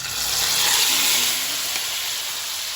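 Marinated mutton frying in hot spiced masala for Nizami-style wedding mutton, giving a steady loud sizzle and hiss that fades slightly toward the end, with no talk.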